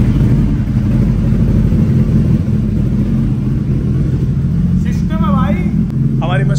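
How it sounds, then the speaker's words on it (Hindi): A Suzuki Hayabusa motorcycle engine rumbles loudly and steadily up close on a cold start, idling throughout, while a voice briefly speaks over it near the end. "तो बाइक स्टार्ट करते हैं, कोल्ड स्टार्ट सुनाता हूँ"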